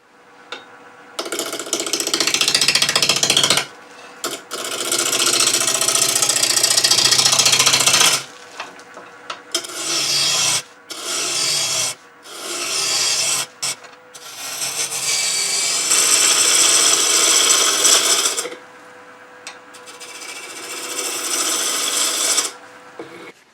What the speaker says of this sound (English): We're going to rough this out real quick and put a tenon on each end.